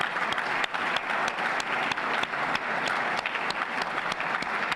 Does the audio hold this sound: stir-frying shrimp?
no